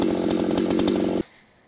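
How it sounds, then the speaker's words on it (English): A chainsaw cuts through wood without its bumper spikes, running loud and close with a steady buzzing roar, then cuts off abruptly into quiet. "Just letting the chainsaw go through"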